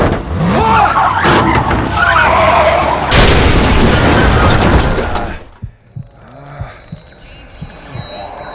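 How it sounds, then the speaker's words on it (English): A truck crash in the zombie game Into the Dead 2: loud skidding and grinding build into a shattering impact boom, then a quieter tail of debris and rumble. "The truck's wrecked."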